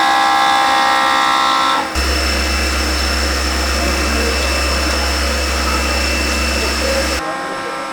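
A high-torque 580 CNC milling machine in a motorsport workshop cuts very hard steel with a loud, steady mechanical whine and roar. The sound shifts abruptly about two seconds in and again near seven seconds.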